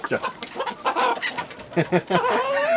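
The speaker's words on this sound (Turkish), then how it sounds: "kümesimin son derece güzel sakinlerinden olan cüce koşin horozlarımız" Bantam Cochin roosters clucking and calling inside a coop, a string of short close vocalizations building to a longer drawn-out call at the end.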